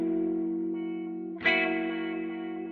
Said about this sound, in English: that's definitely a wah